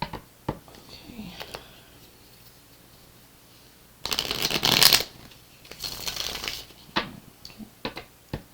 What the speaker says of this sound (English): I will definitely pre-shuffle some of them,